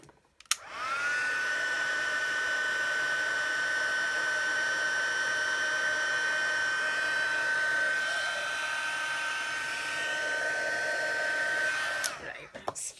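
A heat tool blows steadily for about eleven seconds, warming a stamped card, with a sustained whine and airy rush from start-up to a clean shut-off, close and loud with no talking.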